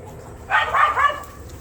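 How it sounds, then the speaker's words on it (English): Dogs barking indoors during home beer cold-racking, a quick burst of three or four close, loud barks in rapid succession, then quiet. "I apologize for the dogs"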